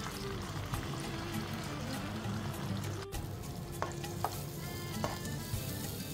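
Chili paste frying in hot oil until the oil separates, a steady dense sizzle with occasional stirring scrapes and small pops, close up and continuous.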